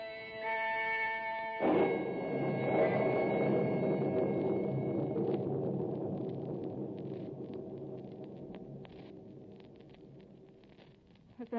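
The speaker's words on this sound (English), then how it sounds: "Was that thunder?" Thunder in a radio drama, a deep swelling rumble that breaks in suddenly, rolls heavily for several seconds, then slowly fades away with no voices over it.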